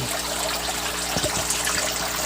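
Water splashes and trickles steadily as live crayfish are flicked in water, a continuous close wet churn with a few small splashes mixed in.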